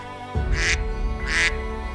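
Two loud, nasal quacks close by from ducks swimming on a pond, evenly spaced over a low background rumble.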